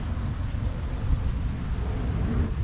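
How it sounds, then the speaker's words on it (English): Steady rain pours at a campsite in San Diego County, a dense, continuous wash of drops hitting the ground and surfaces with a deep rumbling undertone, no voices. "it starts to rain"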